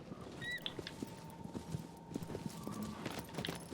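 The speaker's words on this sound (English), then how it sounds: "Aggro over here reminds me of that horse." Horse hooves clip-clopping in the Shadow of the Colossus remake, a steady sequence of soft, evenly spaced clopping steps over quiet outdoor ambience, with a faint whinny-like call early on.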